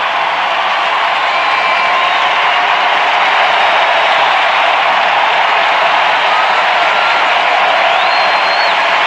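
A large crowd at Toronto's Blue Jays World Series victory parade cheers and applauds loudly and without a break, a dense, steady roar with occasional whistles rising above it.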